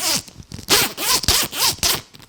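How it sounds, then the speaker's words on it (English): A jacket zipper is zipped up and down several times in quick, rasping strokes, very close and crisp. "Zipper works great."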